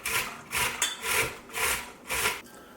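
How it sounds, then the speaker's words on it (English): Cauliflower, about 1.5 heads, rubbed down a box grater in four steady rasping strokes, close and fairly loud with brief pauses between. "we're just going to grate everything into our box grater"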